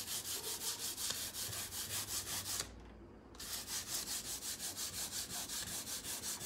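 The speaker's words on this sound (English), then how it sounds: "This is 500 grit sandpaper." Steady back-and-forth rubbing of 500 grit sandpaper over a painted washstand finish, a rhythmic scratchy hiss repeating about twice a second, with a brief pause near the middle, close and moderately loud.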